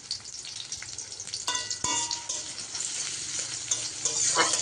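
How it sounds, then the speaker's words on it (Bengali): Two medium-sized chopped onions added to hot oil in a pan, sizzling softly up close, with a few sharp clinks and scrapes of stirring that build toward the end, no talking. "তেল নেওয়া হয়ে গেলে এবার এক এক করে পেঁয়াজ কুচি দিয়ে নিচ্ছি"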